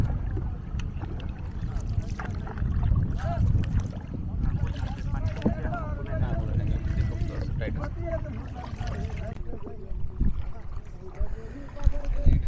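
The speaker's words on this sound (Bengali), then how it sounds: "তা আমাদের নৌকা ভাসিয়ে দিল রাতারগুলের উদ্দেশ্যে" A small boat glides through the flooded Ratargul swamp forest in Sylhet, with water trickling and splashing from paddling under steady nearby talk.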